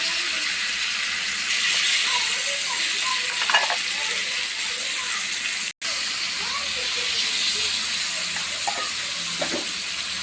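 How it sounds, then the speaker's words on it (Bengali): Meat curry with spices boils and sizzles in a pan, a steady hissing bubble with scattered pops and clinks, kept up throughout. "এই যে দেখেন মাংসটা ফুটছে"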